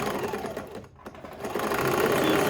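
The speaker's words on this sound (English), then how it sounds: "So we're gonna stitch those together." A sewing machine runs steadily, stitching two strips of fabric together for a crop top's neckline band, its fast, continuous mechanical whir close and loud for the whole stretch, briefly dipping before picking back up.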